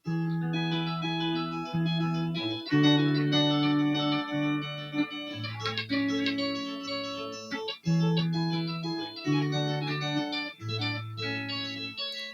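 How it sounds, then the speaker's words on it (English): Electric guitar, a Gretsch G6131-MY Malcolm Young Signature Jet through a Mood pedal in slip mode, plays a melodic line of sustained notes with a modulating, wobbly, shimmering tone; no talking. "That sounds really good. That's a mood pedal."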